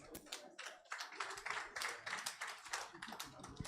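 Audience applause welcoming a woman onto the stage at a sustainable building conference, a moderate patter of clapping hands with a few distinct taps, fairly close, with some talk mixed in.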